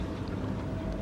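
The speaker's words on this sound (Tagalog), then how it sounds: "Oh, may sound ng makina." Engine sound effect from the speaker of a 1:8 scale model 1962 Volkswagen 23-window bus: a brief, steady, noisy rumble played at moderate volume with no breaks.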